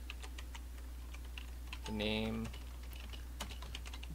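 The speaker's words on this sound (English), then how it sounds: "And then I typed in" Fingers tap a computer keyboard in quick, light clicks, close and fairly quiet, while a person builds a food item in MCreator; a brief word of speech cuts in midway over a steady low hum.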